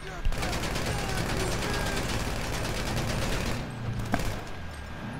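A continuous barrage of automatic gunfire roars in GTA 5 Online during a casino heist setup mission, loud and sustained, with a player talking over it.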